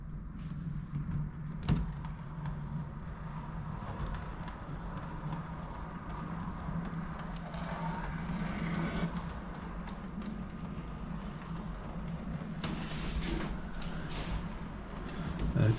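A model railway locomotive rolls through points on an indoor layout, a low continuous rumbling hum with occasional clicks and knocks, fairly quiet and steady.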